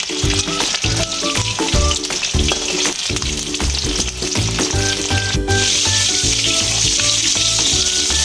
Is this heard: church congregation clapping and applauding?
no